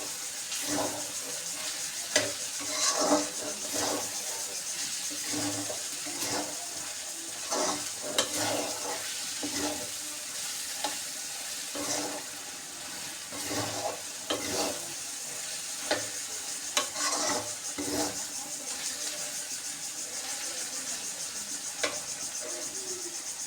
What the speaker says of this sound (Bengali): এখন এটাকে আমি নেড়ে চেড়ে দেবো সুন্দর করে।